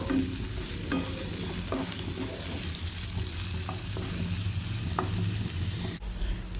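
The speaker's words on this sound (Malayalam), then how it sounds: "ഇത്രയും ചേർത്ത് കൊടുത്തിട്ട് നന്നായിട്ടൊന്ന് വഴറ്റിയെടുക്കുക" Sliced onions and green chillies sauté in a pan for Mulbagal masala dosa filling, a soft, steady sizzle with occasional light scrapes and taps of a spatula, fairly quiet and with no one speaking.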